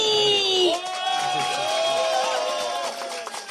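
Crowd at a South Korean political rally cheering and applauding, with sustained shouts and whoops over loud clapping, steady and then tapering off at the end.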